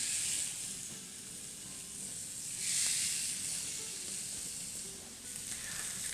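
Pork chops sizzle loudly on a hot grill grate wiped with grapeseed oil, a steady broadband hiss with a surge partway through as more meat goes down, with no talking.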